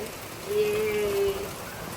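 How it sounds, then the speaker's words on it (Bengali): Steady rain patters throughout, a dense even hiss, with a brief faint tonal sound partway through. "ফাইনালি বৃষ্টি পড়ছে।"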